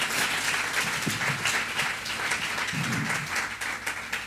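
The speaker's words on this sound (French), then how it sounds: "Est-ce qu'on peut juste applaudir pour cela," A church congregation at a gospel celebration applauds together, a steady, moderately loud wash of clapping that carries on throughout with a faint low hum underneath.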